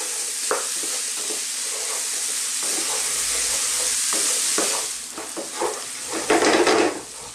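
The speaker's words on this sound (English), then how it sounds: "There we are, this is browning really nicely." Beef browning for carne guisada sizzles steadily in a hot pan, with a spoon stirring and scraping against the metal and a few louder clatters toward the end; no voices.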